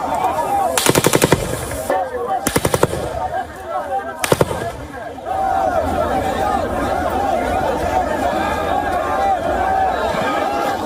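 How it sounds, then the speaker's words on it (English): Bursts of automatic gunfire echo over a crowd of hundreds of Palestinians packed between metal gates waiting for aid; several sharp loud volleys come early, then crowd noise and voices continue underneath. "Gunfire echoing through the footage."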